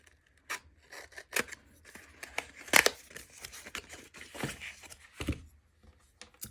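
Scissors snipping through tape on a taped-shut package holding a bottle of fountain pen ink, with several sharp close cuts and crinkly rustles of tape and paper spread over a few seconds, no talking.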